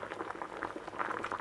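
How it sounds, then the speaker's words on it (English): Water at a rolling boil in a pot on the heat, bubbling and popping steadily and close up, with no voices. "Yes, it boils."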